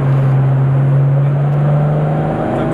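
A 400 hp car accelerating hard after a downshift, its engine holding a loud, steady drone with a slowly rising note, close and continuous with no talk.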